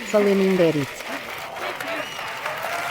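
Audience applause follows a spoken-word poetry performance, a steady wash of many hands clapping at moderate distance, heard under a voice speaking at the start that fades out.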